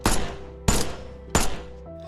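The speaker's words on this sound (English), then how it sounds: "And suddenly, Joanna started gunfire." Gunfire in a TV show scene: three sharp, loud shots spaced about two-thirds of a second apart, each with a brief decaying tail over a low droning music bed.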